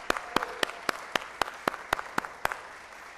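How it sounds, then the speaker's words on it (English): Applause at the NASDAQ opening bell ceremony for the DREAM Project, a steady wash of crowd clapping with a dozen sharp, evenly spaced loud claps standing out near the microphone. "Let's give a round of applause."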